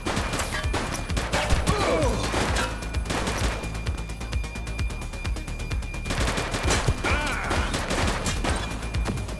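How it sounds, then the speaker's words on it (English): Gunfire during a police shootout in The Precinct: loud rapid volleys of crackling shots in two dense stretches, separated by a brief lull with sparser reports. "He's shooting!"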